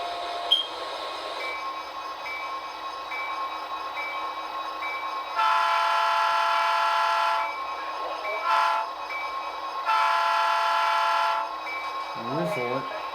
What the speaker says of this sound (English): that whistle almost sounds like a southern whistle